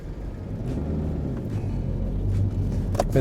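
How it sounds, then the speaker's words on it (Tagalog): Steady road traffic in Reading on a route with buses and a bus lane, heard as a continuous low rumble of passing cars and heavy vehicles, fairly close and building slightly toward the end. "Ito yung part ng Reading na traffic lagi."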